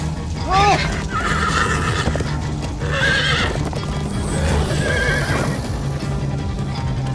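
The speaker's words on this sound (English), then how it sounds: "Slow down, horse!" A horse in Minecraft: Story Mode whinnies loudly over clip-clopping galloping hooves, with several voices speaking over the action.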